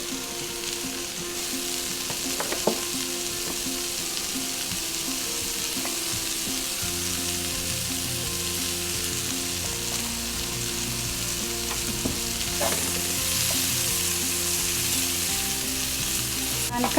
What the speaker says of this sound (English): continue to saute the veggies for about another 4 minutes or so